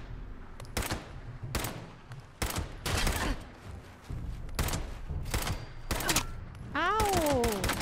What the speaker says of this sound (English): Seriously, who's shooting?